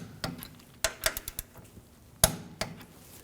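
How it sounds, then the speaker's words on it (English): Sharp metallic clicks and clanks from a torque wrench tightening rear suspension bolts on a 2007-2013 BMW 328i during a coil spring replacement, a few isolated hits then a quick cluster, close and fairly quiet. "Now I'm going to torque these bolts to 40 foot-pounds."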